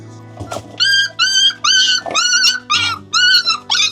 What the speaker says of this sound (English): Hello, little puppies.